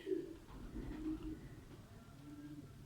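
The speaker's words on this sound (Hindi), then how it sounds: "ये कबूतरी है मेरे भाई।" Soft, low cooing from a female Teddy pigeon close by, a couple of throaty murmuring coos in a quiet space.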